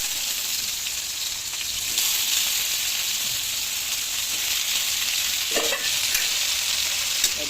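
Shrimp fry in hot oil with garlic, onion and ginger, giving a loud, steady sizzle with bursts of spitting and stirring that swell partway through and hold close and continuous without any talk.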